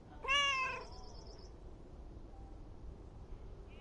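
Mortimer, a cat in a video game, lets out a single clear meow near the start, followed by a quiet background hum.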